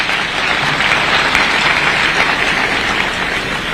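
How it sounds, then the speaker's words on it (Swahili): A large crowd at a school anniversary event applauds a professor, a dense, loud and sustained wash of clapping that holds steady without talk above it. "Pigeni makofi huyo Professor."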